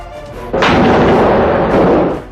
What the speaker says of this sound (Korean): 새벽을 깨우는 총소리가 들렸고